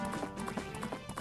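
Galloping hooves of Epona, the horse in Zelda: Majora's Mask, thud in a steady clip-clop rhythm across about a second, close and clear over game music and faint background ambience.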